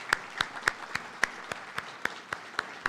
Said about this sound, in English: So let's give them all, the family, supporters, and friends, a round of applause.